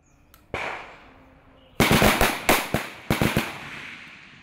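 Gunfire from military shooting practice by an army division: one sharp shot, then a pause, then a rapid string of cracking reports in quick bursts, loud and fairly close, with no voices.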